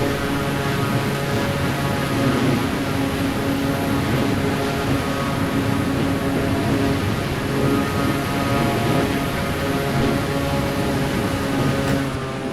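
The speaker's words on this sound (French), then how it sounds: "Et voilà, ça y est, on décolle." A propeller aircraft taking off in Microsoft Flight Simulator 2024, its engine a loud, steady drone with a strong tonal whine that holds evenly throughout.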